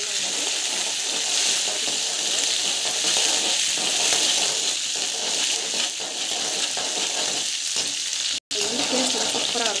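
Mustard seeds, cumin and green chilies fry in hot oil with a steady, dense sizzle and crackle running through the whole stretch, broken by one abrupt moment of silence near the end before the frying resumes.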